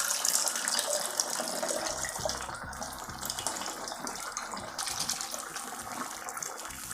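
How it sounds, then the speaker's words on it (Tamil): Tamarind water pours steadily into a pot of brinjal rasavangi, a continuous soft gushing splash heard up close and alone. "புளி தண்ணி விட்டுட்டேன்."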